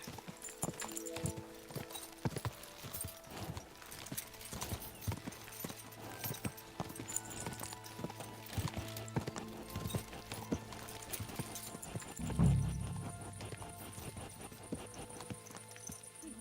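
Horse hooves clip-clop at a steady walking pace in the medieval game Kingdom Come: Deliverance II, moderately close, with a low thump partway through.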